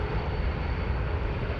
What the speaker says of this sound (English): Is that the 777-200 long range again?